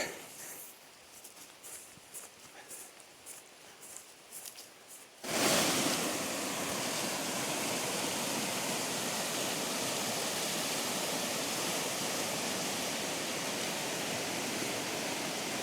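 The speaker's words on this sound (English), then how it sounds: "That creek is roaring." The North Fork of the Willamette roars in full flood, a loud, steady rush of water that swells in abruptly after a few seconds of quieter rumbling and then continues unbroken.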